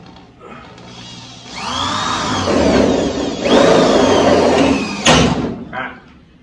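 Power screwdriver driving screws through the outer wheelhouse into a brace on a 1968 Firebird or Camaro: two long, loud whirring runs with rising pitch, then a brief sharp burst, close up and without talk.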